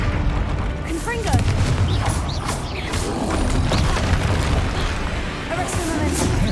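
Confringo blasting-spell explosions in the Hogwarts Legacy game during a troll fight, booming repeatedly over a dense, continuous layer of battle noise.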